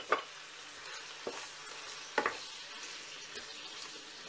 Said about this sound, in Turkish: Şöyle bir iki karıştırıyoruz